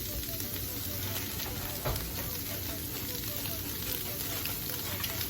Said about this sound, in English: I'm just going to crack my eggs and put them in there.